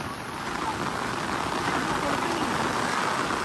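Heavy monsoon rain falls around Pangoli village near Lonavala, an area hit by a landslide. A dense, even roar of downpour fills the whole stretch, loud and close, with no pauses.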